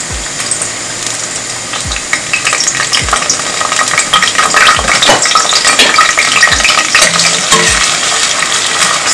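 Onions and iru stirred and fried in a pan: loud, steady sizzling throughout with repeated close scraping strokes and a few knocks of the spoon against the metal.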